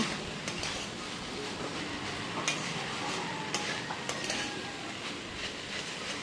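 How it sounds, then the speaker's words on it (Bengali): Snake gourd fries in a pan under a constant low hiss and rumble, with occasional soft clicks and scrapes as it is turned over, fairly quiet and steady without speech. "এখন আবার চিচিঙ্গাগুলো আমি ভালো করে নেড়েচেড়ে ভেজে নিচ্ছি"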